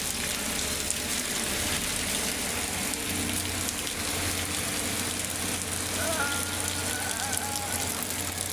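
Heavy rain pouring down steadily as floodwater rises, a dense, unbroken hiss that stays loud and even throughout, with a faint voice briefly audible beneath it.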